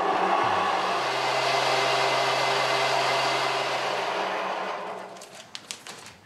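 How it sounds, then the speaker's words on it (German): An electric professional spice mill in a small shop in Sri Lanka grinds coriander seeds with a loud, steady whirring drone that winds down near the end, followed by a few clicks. "Heute wird Koriandersamen gemahlen."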